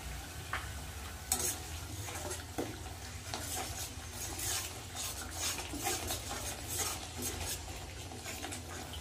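Masala of turmeric, chilli powder, cumin and salt frying in a pan while a utensil scrapes and stirs it, a steady soft sizzle broken by repeated clinks and scraping strokes, close and moderately quiet, no voices.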